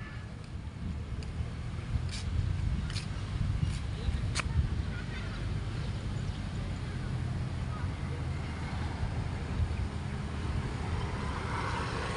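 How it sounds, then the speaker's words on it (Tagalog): Steady low wind buffeting a microphone outdoors at a girls' softball practice, with faint indistinct voices and a few light clicks in the background. "Sarap dito guys, mahangin-hangin."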